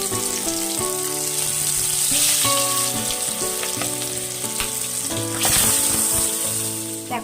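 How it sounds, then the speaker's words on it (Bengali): Pieces of aar fish fry in hot oil in a wok, giving a loud, continuous sizzle and crackle that goes on for the whole stretch with background music playing over it. "কড়াইয়ের তেলটা আমার গরম হয়ে গেছে, এবার আমি মাছগুলো ছেড়ে দেবো ভাজার জন্য"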